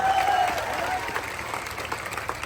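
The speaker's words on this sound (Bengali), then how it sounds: "ওনার জন্য একটা হাততালি আমি আশা করি" An audience applauding at a speech in a school setting, a dense, steady clapping crowd heard from within the hall, fairly loud and continuous throughout, with faint voices underneath.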